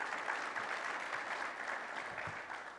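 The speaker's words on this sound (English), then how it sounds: "Let's give Ms. Lori Orn another round of applause." Audience applause at a violence intervention conference, a dense, steady wash of many hands clapping that holds for about three seconds and fades slightly near the end.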